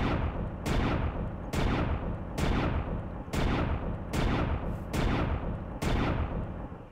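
Hunter's Handgun from the Minecraft Hexxit mod fires eight loud, sharp shots at a steady pace, each blast ringing out briefly before the next, with no talk.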